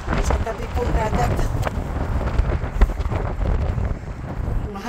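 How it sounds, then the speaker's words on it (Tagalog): Gusty wind on a bridge by the sea buffets the microphone in loud, uneven rumbles, with a person talking intermittently beneath the blustering. "Mahangin po dito sa ibabaw ng tulay."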